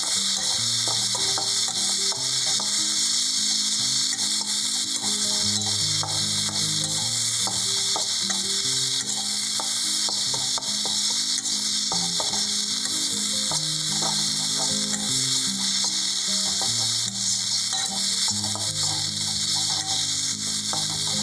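Capsicum, pepper pieces and paneer coated in garlic, onion and ginger paste sizzle steadily in a pan while being stirred, with frequent scraping and clacking of the spoon against the metal throughout, loud and close with no talking.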